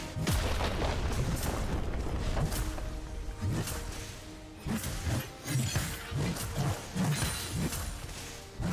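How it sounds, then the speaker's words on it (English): A turret being destroyed in League of Legends, heard as a run of loud booming impacts and crashing bursts with whooshes, repeating through a dense, busy game mix. "Red team's turret has been destroyed."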